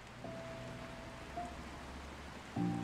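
Steady rain ambience in the city from the video game Until Then: a soft, even hiss of falling rain with faint sustained tones over it, and a slightly louder swell near the end. No one speaks.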